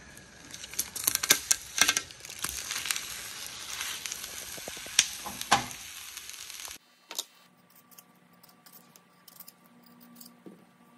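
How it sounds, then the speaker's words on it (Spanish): Two poblano chiles roasting on a comal give off soft sizzling and crackling with scattered pops, fairly close and steady, then drop to faint intermittent ticks after about seven seconds. "Ahorita vamos a llevar a tostar en el comal los 2 chiles poblanos."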